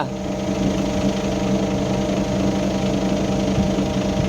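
A vehicle engine runs steadily just after the key is turned, a continuous loud idling hum with a buzzing vibration and no break.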